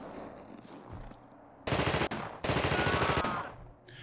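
Machine-gun fire from The Thing video game, two sustained loud bursts of rapid automatic shots following quieter sounds, with no talking.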